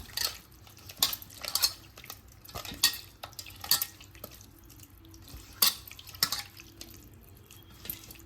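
Raw chicken pieces being mixed with salt and masala for a Mangalore chicken ghee roast, with irregular wet squelches, drips and light clicks against a bowl, close and quiet.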